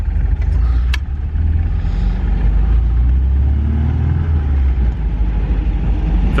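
An MGB GT's engine under way, a loud, steady low rumble with road noise that holds evenly throughout, no voices over it.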